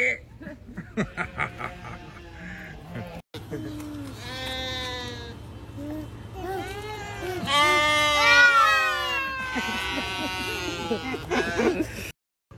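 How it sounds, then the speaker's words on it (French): Several long-haired sheep bleat in wavering, overlapping calls at a wildlife reserve, some close and loud, with a brief voice and background noise between them. "là-bas au fond il y a des moutons. Des moutons à poil long."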